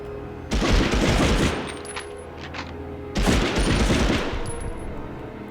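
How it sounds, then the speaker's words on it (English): Gunfire in the shooter game Medal of Honor, two loud sustained bursts of automatic fire, each lasting over a second, separated by a short lull, close and sharp. "Who's shooting at me?"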